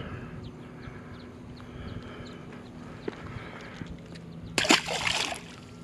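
A largemouth bass caught on a Berkley Havoc craw is let go back into a lake, and a short, sharp splash with a quick slosh of water breaks through the quiet outdoor hum near the end.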